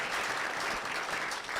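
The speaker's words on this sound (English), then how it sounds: "Round of applause." Brief burst of audience applause at a panel session, dense steady clapping from a room of people, fairly quiet overall.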